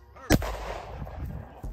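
A .357 revolver fired into a bulletproof wallet: one sharp, loud close-range gunshot followed by a ringing decay and echo, with another brief knock at the end.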